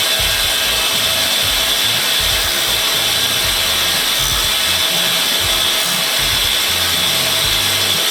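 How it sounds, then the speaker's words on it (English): A bench grinding wheel, fitted with a smaller-diameter wheel, grinds a spiral flute tap to shorten it, giving a steady, loud, continuous harsh hiss and whine throughout with a rumbling low undertone. "I'm going to have to grind quite a bit back off it and then shorten the tap later on"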